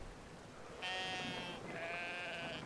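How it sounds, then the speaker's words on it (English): Two sustained sheep bleats in the video game Brothers: A Tale of Two Sons, the first lasting under a second and the second slightly longer, clear and fairly close over a quiet ambient background with no talking. "We're gonna release all those sheep."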